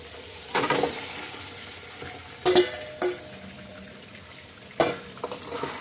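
Chicken tipped into a pan of frying masala and stirred, a steady sizzle with several louder scraping bursts from the spoon, close up, no talk.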